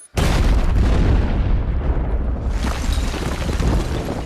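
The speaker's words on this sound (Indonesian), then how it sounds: "beruntung Bond selamat dari ledakan tersebut" A sudden massive explosion from the film No Time To Die bursts in and rumbles on, a loud, dense boom that swells again midway before slowly fading.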